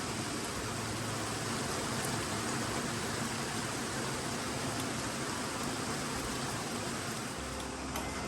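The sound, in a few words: heavy rain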